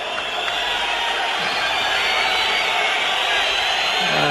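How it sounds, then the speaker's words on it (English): Boxing arena crowd after the Sibson versus Acaries decision, a steady, dense roar of voices with jeering mixed in, loud and continuous throughout with no single voice standing out. "And a bit of jeering going on"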